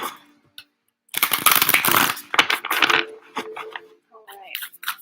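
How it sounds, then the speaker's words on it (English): Stiff tarot cards riffle and slide against each other in close, busy bursts of papery rustling, with a voice speaking at the end. "Let's give these a good shuffle."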